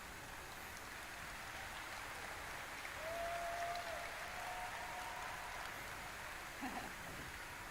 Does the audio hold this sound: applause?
yes